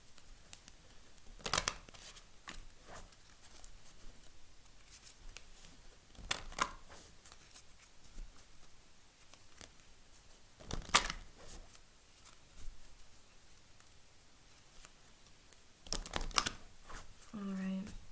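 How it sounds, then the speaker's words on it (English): A deck of playing cards being shuffled in bursts of riffling and soft crinkling, with quiet pauses between, close by and fairly faint. "I couldn't talk while I was shuffling."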